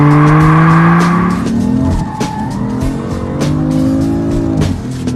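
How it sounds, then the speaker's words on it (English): A car accelerating hard while spinning its rear tires to start a drift, with a loud, close engine roar that climbs in pitch over sustained, shrill tire squeal throughout. "You just gas it and spin the back tires."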